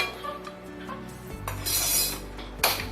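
Fried food for rava kesari being transferred into a bowl, with clinks of a utensil against dishes and a louder clatter near the end, no talking.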